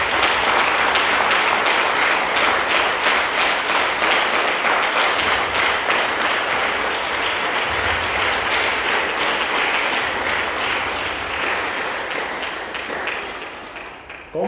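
A church congregation bursts into sustained applause, dense and steady clapping from many hands filling about fourteen seconds before gradually thinning out at the end.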